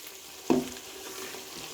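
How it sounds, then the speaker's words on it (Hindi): Mutton pieces fry in a pan with garam masala, nutmeg-mace powder and other spices, giving a short sizzling hiss with one brief stir or scrape near the start, close up and alone. "और 2 से 3 मिनट तक इसकी भुनाई करेंगे।"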